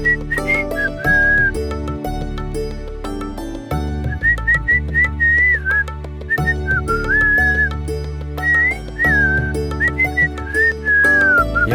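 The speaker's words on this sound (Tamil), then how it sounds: "காலையில விசில் சத்தம் காதெல்லாம் கிழிக்குது" A loud, shrill whistled melody rises and falls in a morning setting, carried over a steady musical backing and continuing throughout.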